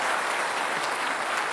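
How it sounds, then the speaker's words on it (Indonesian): Studio audience applause for both Jakarta gubernatorial candidates, Basuki and Anies, at a televised election talk show: a dense, steady wash of clapping, loud and continuous throughout with no voices on top. "Kita kasih tepuk tangan untuk keduanya."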